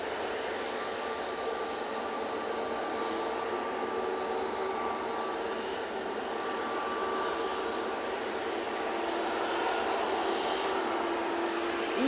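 An EasyJet airliner taxis at Manchester Airport, its engines producing a steady, loud whining roar with a constant tone that holds level throughout.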